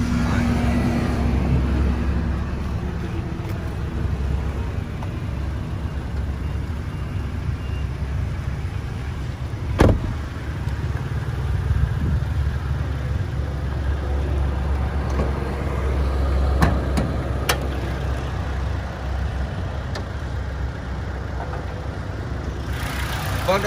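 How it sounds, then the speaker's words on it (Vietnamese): The 2.0-litre engine of a 2008 Toyota Innova G idles smoothly for a steady, low drone that holds even throughout, close by, with a couple of faint clicks and no talking over it. "Đấy, máy nổ rất là êm."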